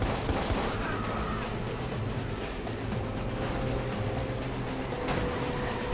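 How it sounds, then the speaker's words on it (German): Gunfire aimed at the player's car during a vehicle chase in the video game Watch Dogs, with rapid bursts under a constant roar of engine and road noise and no talking. "Und die ganze Zeit auf dein Auto schießen"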